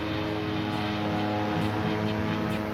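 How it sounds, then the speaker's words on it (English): A 6-foot-diameter fan blade driven by a 350 horsepower big block engine makes a steady, loud propeller-like roar with a droning engine hum, used to generate helicopter-speed wind up to 95 mph. "This is a 6-foot diameter fan blade connected to a 350 horsepower big block engine."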